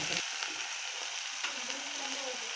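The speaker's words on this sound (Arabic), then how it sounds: "هنا البصلة خاصة تطيح تماما." Chopped onion sizzles steadily in a hot frying pan, a continuous close crackle and hiss that runs without pause and with no voices over it.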